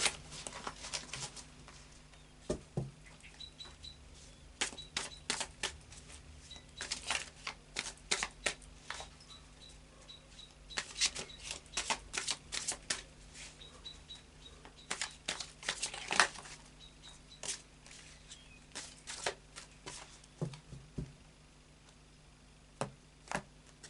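Tarot cards shuffled and laid out on a table, a long run of soft riffling and flicking bursts, close and quiet, with small slaps as cards are drawn.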